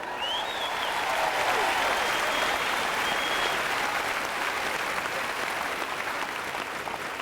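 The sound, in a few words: audience applauding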